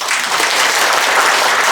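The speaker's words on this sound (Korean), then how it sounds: "다시 한번 뜨거운 박수 부탁드립니다" Sustained applause from a lecture audience at an anniversary ceremony and public lecture in Busan, dense, even clapping filling the room at steady loudness, with no talk over it.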